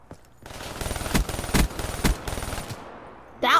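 Bursts of automatic gunfire in Black Ops 3, rapid rattling volleys with a few sharper, louder shots standing out, stopping near the end before a brief voice.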